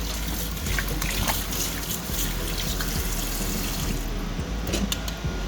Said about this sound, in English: And just rinse your meat one more time.